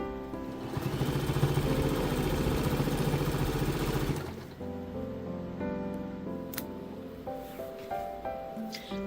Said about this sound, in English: I bring it to my sewing machine and I sew a strip of grosgrain ribbon to the edge to help support the sides